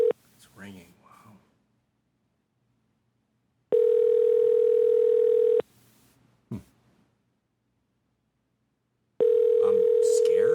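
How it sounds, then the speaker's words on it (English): Telephone ringback tone heard on a call, two steady electronic ring bursts of about two seconds each separated by silence, with brief bits of speech and noise before and between them. "It's ringing."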